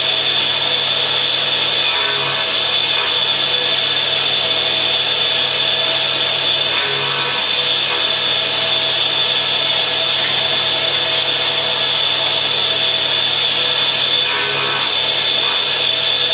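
A power drill runs continuously at a steady, high-pitched whine, loud and close, with faint low thumps from the work now and then, while grinding facets on a drill bit.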